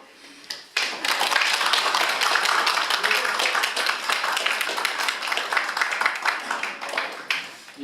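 A concert audience claps steadily for several seconds, a dense, loud wash of many hands that begins abruptly and stays even before thinning near the end.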